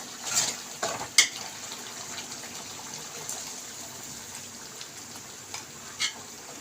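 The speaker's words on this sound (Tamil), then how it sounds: "இப்போ மோரை ஊற்றி பெருங்காயத்தூளை போட்டு இறக்கிடலாம்." Buttermilk poured into hot okra mor kuzhambu with asafoetida gives a soft, steady sizzling hiss in the pot, broken by a few faint clinks and splashes, with no talking.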